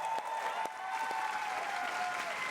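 A large crowd at the Ubisoft E3 2019 show claps in a sustained, dense burst of applause, with a few scattered shouts rising above the steady clapping.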